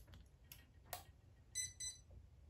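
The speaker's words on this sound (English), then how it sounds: "You'll hear the double beep. That's on." Kabolite K336 RC hydraulic excavator transmitter switching on with a quick double electronic beep, two short close tones in quick succession after faint clicks in a quiet room.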